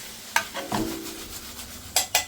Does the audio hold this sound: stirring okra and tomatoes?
yes